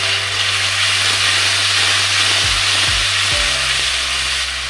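Spice masala of turmeric, cumin and red chilli powder with tomato paste frying in a pan for Bengali katla kalia, giving a loud, steady sizzle with a low hum beneath and a few brief sliding tones.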